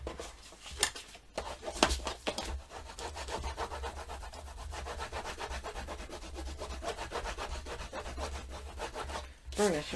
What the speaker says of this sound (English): Burnish it real well.